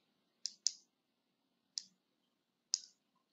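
A computer mouse gives four crisp, quiet clicks, two close together and then two spaced about a second apart, in an otherwise silent room.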